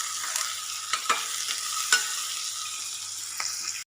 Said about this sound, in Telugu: పసుపు వేసుకున్న తర్వాత ఒకసారి ఇట్లా కలిపేసుకుందాం దీన్ని